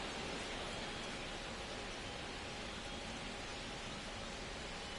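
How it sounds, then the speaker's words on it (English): Steady heavy rain falls on a baseball field in the video game MLB The Show 25, a dense, even hiss that goes on throughout. "It's coming down pretty good. Yeah, it is, and it's not too bad yet, but the field's not going to be able to hold up if the rain gets any worse than this."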